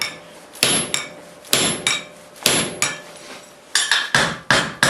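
Hammer blows upsetting the end of a half-inch round steel bar at the forge, a steady series of sharp ringing strikes, some doubled with quick rebound taps, close and loud with no speech.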